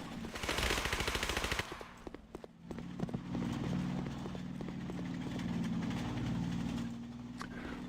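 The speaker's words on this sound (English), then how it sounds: "There's tank shooting." Tank fire and rapid gunshots in the WWII Online combat game: a dense burst of loud repeated bangs early on, then scattered sharp reports over a steady low engine rumble.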